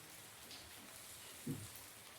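Steady rain in the video game Doki Doki Blue Skies, a soft continuous patter spread evenly through the clip, with one brief low thump partway through and no talking.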